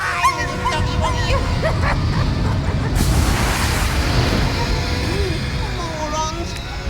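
A small dog yips and whimpers amid a loud, busy mix of film dialogue, music and effects, with high whining cries scattered throughout.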